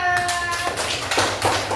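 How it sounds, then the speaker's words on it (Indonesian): A classroom of children claps for a student group, rapid light claps bunched into a few short bursts, with a brief voice at the very start. "Tepuk tangan buat kelompok 2."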